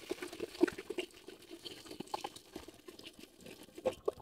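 Water splashing and pattering as rice is washed by hand and set to cook in a home kitchen, with soft irregular sloshes and a few sharper splashes, close and fairly quiet.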